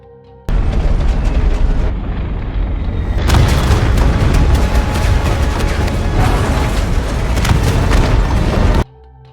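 Heavy, continuous booming explosions from bombs dropped by planes in a film fill the scene, a loud rolling roar of blasts that swells partway through and then cuts off abruptly.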